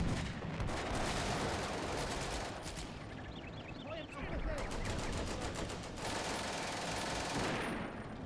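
Machine gun fire in the WWII tactics game Combat Mission: Beyond Overlord, a team in a heavy building under attack from many positions; rapid rattling bursts overlap with distant shots and booms, continuous and dense throughout.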